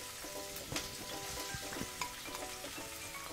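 Finely chopped ginger and garlic crackle and sizzle in hot coconut oil, a steady close frying hiss broken by a few sharp spoon knocks, with a faint steady tone running underneath.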